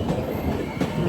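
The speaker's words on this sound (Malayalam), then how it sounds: "ട്രെയിനിപ്പോൾ തൃശ്ശൂർ റെയിൽവേ സ്റ്റേഷനിലേക്ക് എത്തുകയാണ്." An Intercity Express train rolls into Thrissur railway station with a dense, loud rumble of wheels on track and rhythmic clickety-clack knocks, close by and alone.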